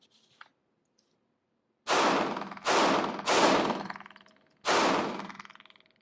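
A Sig Sauer pistol fires down range: four loud, sharp reports with ringing decay, three in quick succession and then one more after a short pause, following near silence.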